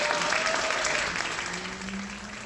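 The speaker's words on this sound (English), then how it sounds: "When it ends, everyone claps." A crowd applauds at a rock show, a steady wash of clapping with a sustained musical tone underneath, gradually fading toward the end.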